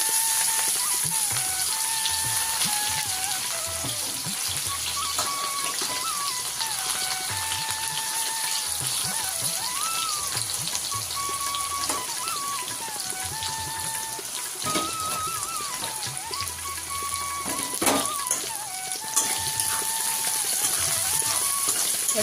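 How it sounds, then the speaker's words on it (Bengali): Sliced onions frying in oil after a cumin tempering for a village-style country chicken curry, a continuous crackling sizzle with scattered pops, accompanied by faint background music throughout. "পেঁয়াজগুলো একটু হালকা ভেজে নেব"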